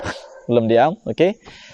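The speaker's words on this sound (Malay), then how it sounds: "Dan anjing pun bergonggong sehingga saat ini, daripada mula-mula kita masuk sampailah sekarang anjing belum diam" Dogs near an old, long-abandoned warehouse at night, giving a few loud, close whining yelps and bark-like howls in quick succession.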